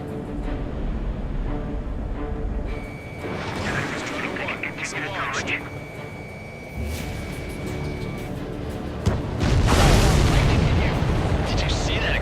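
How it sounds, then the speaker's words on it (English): A supply ship blows up in the Ace Combat 7 flight game, a loud booming blast under jet engine roar and combat noise, swelling near the end, with radio chatter over it. "Did you see that explosion?"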